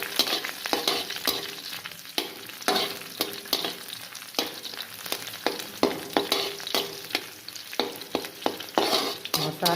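Dried red chillies and masala frying in a pan for egg curry, a soft continuous sizzle broken by repeated scraping and stirring strokes of a spatula, fairly quiet and close, with no voices.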